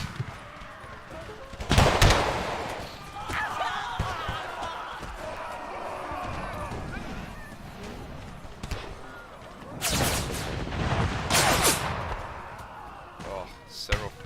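Sharp musket fire cracks and volleys from an American Civil War video game battle, infantry firing on Union volunteers, with loud bursts near two and ten to twelve seconds over a busy, rumbling background.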